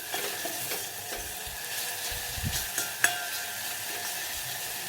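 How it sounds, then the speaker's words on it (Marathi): A ground cumin and garlic paste sautéing in oil for Maharashtrian kadhi makes a continuous low sizzle, broken by several soft scraping stirs and a sharp clink of a spoon on the pan near the middle. "वाटण आपल्याला मस्त असं परतून घ्यायचं आहे एक मिनटं परतायचं"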